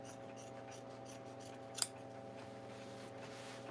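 A single quiet snip of scissors trimming upholstery fabric on an Eastlake Victorian chair, faint and brief over a steady low hum.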